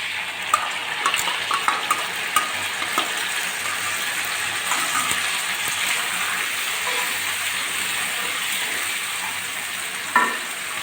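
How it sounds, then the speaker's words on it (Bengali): Ground spice paste frying in oil with fried potato pieces, stirred steadily in a pan: a continuous sizzle with soft scraping and clinks of the spoon, no voices. "মশলাটা আমি আলুর সঙ্গে ভালো করে কষিয়ে নেব।"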